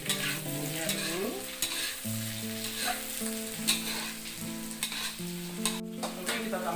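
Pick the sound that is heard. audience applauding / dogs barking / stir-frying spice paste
stir-frying spice paste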